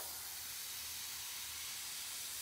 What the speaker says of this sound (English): It'll be the same color, same airbrush gun